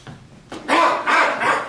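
An actor on stage in a Shakespeare production of The Two Noble Kinsmen gives a short run of loud, close dog-like barks, about three rough yaps in quick succession, a human voice imitating a dog.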